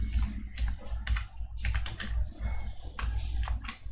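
Someone types on a computer keyboard, close and clear, with quick irregular bursts of key clicks separated by short pauses.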